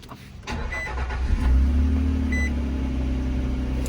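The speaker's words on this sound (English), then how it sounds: "I just turned the truck on" A Nissan Frontier pickup truck engine turns over and catches, settling into a low steady rumble, with a couple of short electronic beeps partway through.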